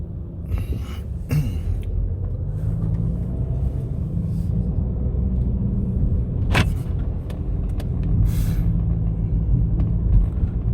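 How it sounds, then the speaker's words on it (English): Steady low rumble of tires and engine from inside a moving 2016 Jeep Patriot Sport with 48,000 miles, continuous and fairly loud, with a few brief clicks and rattles over it. "Listen to that road noise. You can hear that."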